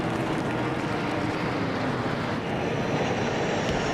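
Military jets, Mirage 2000s and Rafales, fly over during a Bastille Day parade in 2010, a continuous broad roar that holds steady, moderately loud and distant, with no talk.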